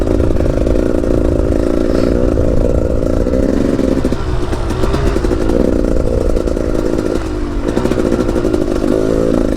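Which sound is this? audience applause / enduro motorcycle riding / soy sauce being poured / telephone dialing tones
enduro motorcycle riding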